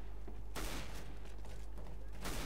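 Gunfire from a Counter-Strike: Global Offensive deathmatch, with loud broadband shots in short bursts and a sustained volley in the middle, layered over constant game noise.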